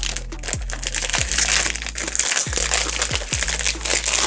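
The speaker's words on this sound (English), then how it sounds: "Let's get this cellophane off." Cellophane wrapper crackling and crinkling as it is peeled off a fragrance box, Moustache by Rochas, in close, steady bursts with a few sharp tears and no talking.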